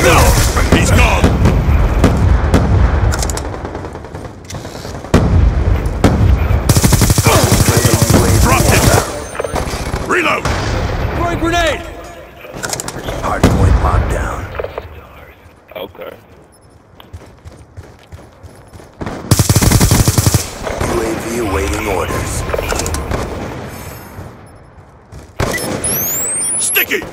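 Gunfire from a Call of Duty: Black Ops 2 online Hardpoint match: loud, sustained automatic bursts and fusillades with booming impacts, broken by short lulls, mixed with game voice radio chatter.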